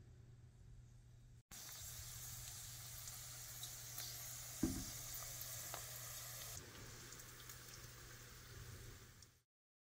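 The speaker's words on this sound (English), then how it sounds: "And now let's start deep frying this." Sesame balls deep-fry in hot oil with a steady, close sizzle and bubbling hiss, broken by a brief clunk partway through, then cuts off abruptly.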